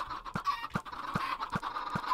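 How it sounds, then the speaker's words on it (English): A chicken clucks in a video game, with several short, evenly spaced clucks over a steady, faint background hum. "we'll put a chicken in there"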